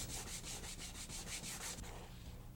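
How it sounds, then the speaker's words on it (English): Hand sanding works a gouge out of a wooden floor finish, a quiet rhythmic back-and-forth rubbing of roughly nine even strokes, close up and alone. "I'm taking it out with a scraper, and then I'm hand sanding"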